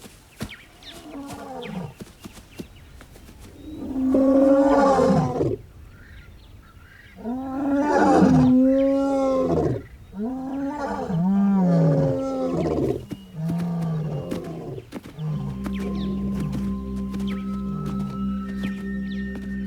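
Lions roar at night in a series of deep, drawn-out calls that build and fade, fairly loud and resonant, ending in a low steady rumble with no talking.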